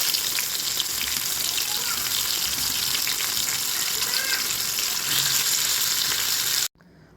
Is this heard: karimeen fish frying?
yes